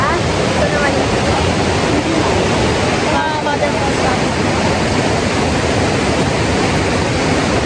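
Strong current of a shallow river rushing at the Ditumabo Mother Falls crossing in San Luis, Baler, Aurora, a loud continuous broadband roar of water, with faint voices briefly audible partway through.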